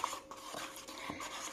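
Eco casting powder and liquid being stirred together in a mixing cup, a soft scraping, rubbing sound with a few faint taps, quiet and close, with no voices.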